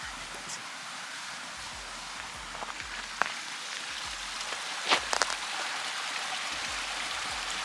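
Water runs in Olympic National Park as a steady, close hiss with no break, and a few faint clicks and knocks sit on top of it.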